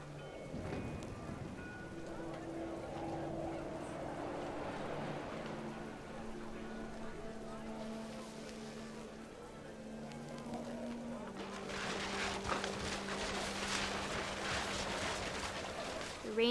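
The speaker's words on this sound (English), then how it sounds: "The rain came down in buckets then" Steady rain pours down in the video game What Remains of Edith Finch, a soft continuous hiss that grows heavier toward the end, under a faint low tonal music bed.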